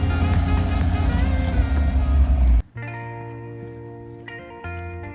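A rusty, unplated 1985 Toyota FJ60 Land Cruiser on the road gives a loud, rough engine and road roar. Partway through it drops to a steadier, quieter droning hum with a few tonal shifts.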